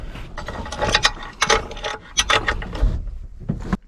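A ratchet wrench fitted with a socket extension clicks in quick bursts of pawl ratcheting, close and crisp, with short pauses between turns during work on a 7.3 engine.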